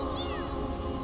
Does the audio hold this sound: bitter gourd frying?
no